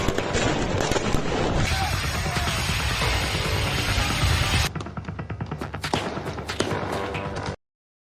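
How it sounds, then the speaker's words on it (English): Fireworks bursting during street protests in Nanterre, France: a dense, continuous crackle of rapid bangs with a hissing high-pitched whistle, then sharper separate pops toward the end, loud and close, with voices in the crowd. "I want you to look at these fireworks."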